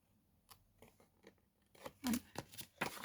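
Scissors snipping through paper while small cards are made, a few quiet cuts early then louder, crisp snips clustered near the end, close by with no talk.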